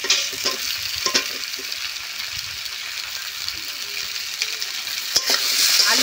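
Potatoes and ridge gourd stir-fry in a pan for a Bengali fish curry, giving a steady close sizzle broken by occasional stirring scrapes, with no talking.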